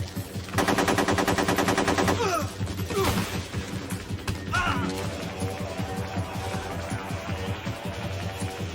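Rapid automatic gunfire from the Metal Gear Solid 3 video game rattles in a dense burst, then breaks into scattered shots and continued firing, loud and close throughout.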